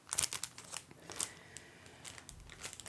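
Small plastic bags crinkle and rustle up close in a quiet room, with irregular crisp bursts of handling throughout.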